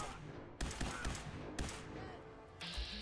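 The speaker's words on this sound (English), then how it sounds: "he has a triple barrel handmade shotgun" A triple-barrel handmade shotgun fires in Fallout 4, with several loud broadband blasts spread over a few seconds amid game noise.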